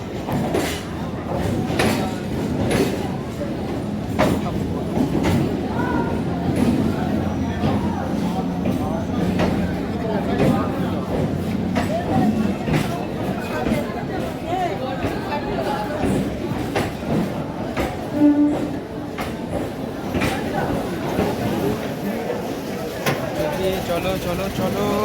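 A train for Namkhana waits at a busy railway platform, with a steady rumble, clanks and clicks under constant chatter from people nearby.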